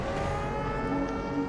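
A siren set off by a button in Minecraft Dungeons wails steadily in a short, continuous, moderately loud burst, with no talk over it.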